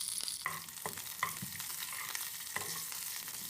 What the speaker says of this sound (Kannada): ನೆಕ್ಸ್ಟು ಅದಕ್ಕೆ ಸಾಸಿವೆ ಮತ್ತು ಜೀರಿಗೆನ ಒಗ್ಗರಣೆಗೆ ಹಾಕ್ಕೊಳ್ತಾ ಇದ್ದೀನಿ